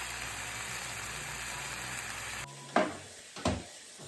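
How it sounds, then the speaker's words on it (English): Chicken sizzles in a frying pan, a steady crackle up close for a couple of seconds, then cuts off, followed by two short clattering knocks. "So y'all hear that sizzle?"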